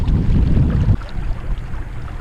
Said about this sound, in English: Motor's still going.